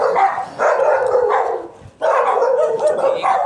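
A Great Dane vocalizes up close on a morning walk in several loud, drawn-out bark bursts separated by short pauses, with no talking.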